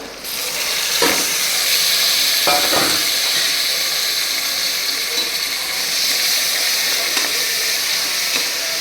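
Tomatoes fry in a hot pan for mushroom biryani, giving a steady loud sizzle and hiss with a few brief scraping stirs of a spoon against the pan.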